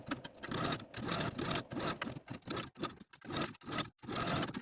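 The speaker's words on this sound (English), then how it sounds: "continue stitching this shoulder seam with a 1/2 inch seam allowance" A sewing machine stitches a shoulder seam in short bursts of rapid mechanical whirring, stopping and starting several times at close range.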